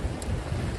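Strong wind roars through the streets of Manhattan during a rainstorm, a brief, dense rush of blustery noise buffeting close to the microphone.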